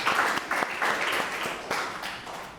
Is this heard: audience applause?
yes